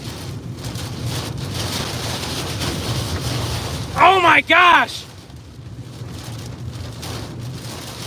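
Wind and rain roar steadily from a nearby large rain-wrapped tornado in Kansas, a constant blustery rush close to the microphone, broken midway by a brief startled voice.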